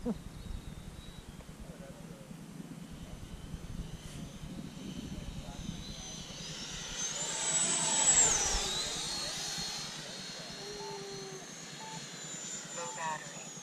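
An FMS 80mm L-39 jet model flies past with a steady turbine whine that swells to a peak mid-pass and then fades, heard at a distance over wind and faint background voices.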